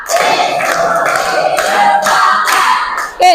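A group of people in a classroom clap together in a counted pattern, bursts of hand claps in short rhythmic sets, fairly close and loud.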